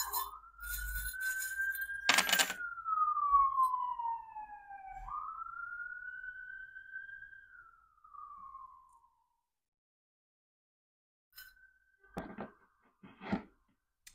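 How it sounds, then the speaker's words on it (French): An ambulance siren wails along a city street, rising and falling in long sweeping tones for several seconds, then fading away. Sharp glassy clinks of small charms sound nearby at the start and again near the end. "on va attendre que l'ambulance passe"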